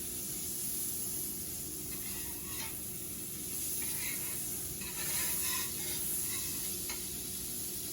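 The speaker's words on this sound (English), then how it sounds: "I forgot to put some butter on the pan, on my griddle. I'm just gonna spread some butter." Butter spread across a hot griddle sizzles loudly and continuously, with bursts of scraping and crackle as it is pushed around the surface.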